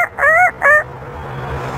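An African grey parrot imitates a rooster's crow in two short, loud, tonal bursts close by, followed by quiet.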